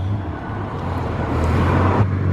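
A car passes close by on the road, a loud low rumble that swells toward the end of the short clip.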